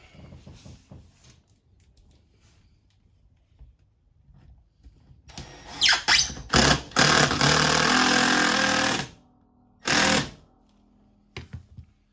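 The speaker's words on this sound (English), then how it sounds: "I'm going to grab my 2-inch screw and I'm going to go through the floor into the plywood." A 2-inch screw is driven through a floor into plywood during a kitchen cabinet install, heard as several loud close drill bursts, one long whir and a few short pulses, after a quiet stretch of faint handling noise.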